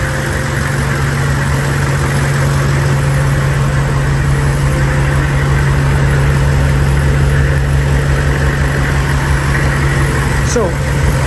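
An old Hummer H1 wagon with a damaged central tire inflation system idles with a steady, loud engine drone and a constant low hum from the system running, while a voice talks over it.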